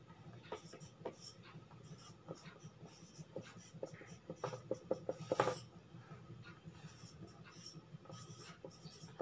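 Marker or chalk strokes on a classroom board as a math question is written, soft intermittent scratches and taps, faint, with a quieter bursty stretch of writing midway and low room noise.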